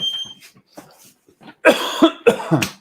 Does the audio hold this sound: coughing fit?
yes